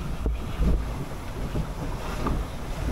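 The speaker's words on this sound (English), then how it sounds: "The wind is very playful today." Wind gusts over open sea near the northernmost Ionian island of Othonoi, a steady broadband rush with low buffeting on the microphone and faint lapping water throughout.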